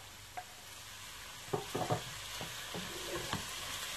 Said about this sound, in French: Je vais mélanger le tout.